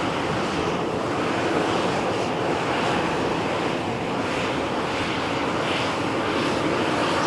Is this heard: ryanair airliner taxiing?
yes